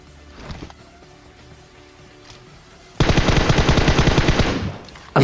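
A Tommy gun in PUBG on the Erangel map fires one sustained, loud automatic burst of rapid, evenly spaced shots lasting about a second and a half. A quieter lull comes before it, and a new burst begins right at the end.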